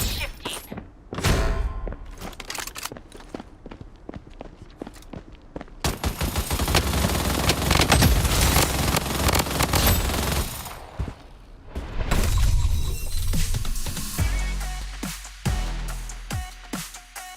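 Video game gunfire erupts in rapid bursts and sustained volleys, loud and dense with thuds and impacts, broken by short pauses between exchanges.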